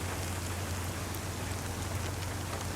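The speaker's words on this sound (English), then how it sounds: "It's still raining." Steady rain falls in the woods of the survival game DayZ, a dense, even hiss of drops on the ground and foliage with a faint low hum beneath, unbroken and without voices.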